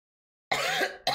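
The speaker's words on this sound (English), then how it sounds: "I don't know where this cough is coming from." A single harsh cough bursts out close to the microphone after silence, followed by a brief second cough at the end.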